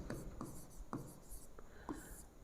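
Quiet, short marks on a board as a physics rule is written, a few brief taps and strokes spaced out over a steady background hiss.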